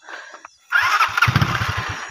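Motorcycle engine revving up and running along an unfinished, rough mountain shortcut road in the Philippines, loud and close with uneven throttle pulses after a brief quiet start, wind rushing over it.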